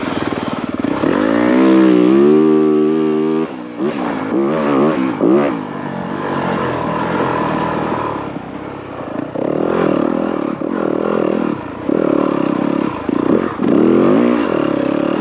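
A dirt bike on a cross-country trail over roots and rock, engine revving loud and close with rising and falling pitch, broken by clattering and scraping as the bike bounces over rough ground.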